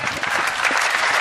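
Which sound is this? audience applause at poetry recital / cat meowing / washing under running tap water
audience applause at poetry recital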